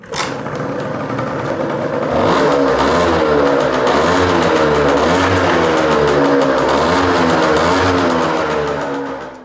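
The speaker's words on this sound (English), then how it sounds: "Today the Fox is gonna do its very first burnout." A Peugeot Fox Deluxe 50cc moped engine revs hard and holds high during a burnout, a loud sustained buzzing whine with wavering pitch close by.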